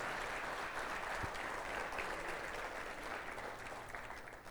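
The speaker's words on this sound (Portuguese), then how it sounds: "Aplauda Jesus, Ele está fazendo isso na sua vida." A congregation applauds during a Portuguese-language church sermon, a steady wash of many hands clapping that fills the whole moment at moderate, even loudness with no speech over it.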